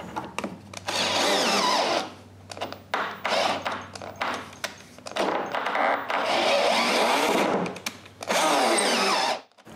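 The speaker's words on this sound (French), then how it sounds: "Ensuite, je peux visser la vis." A power drill drives a screw into hardwood for a closed bookcase, whirring in several bursts of a few seconds each, close and loud, with short pauses between runs.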